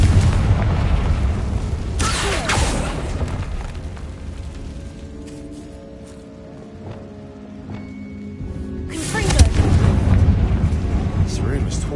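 A Confringo fire spell blast in the Hogwarts Legacy video game bursts in with a loud boom near two seconds, rumbles down, then a second heavy blast hits around nine seconds and roars on to the end.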